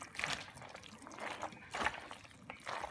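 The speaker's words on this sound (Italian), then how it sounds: "Mettiamo un pochino di acqua." A little water is poured into a pan while Sicilian pesto pasta is being made. It comes as short, soft trickling splashes in a few separate bursts, fairly close, with faint kitchen background and no speech.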